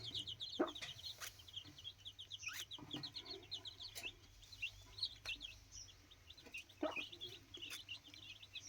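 A breeding rooster, father of a small white chick, clucks softly in a Thai backyard flock, with rapid chirping and clucking calls and occasional sharp knocks, all fairly faint and distant.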